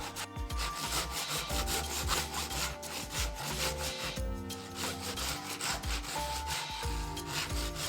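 A hand saw cuts through laminated wood for the nose air intake of a wooden Gundam model, with close, steady back-and-forth rasping strokes in an even rhythm.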